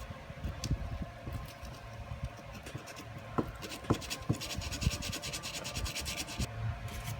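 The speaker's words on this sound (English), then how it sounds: "Little fingernail emery boards work real good for this." A fingernail emery board rubs back and forth across the ignition points of an old GM points-style distributor, giving a close, steady, raspy scratching with quick repeated strokes and a few faint clicks throughout.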